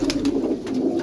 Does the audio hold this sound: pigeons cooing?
yes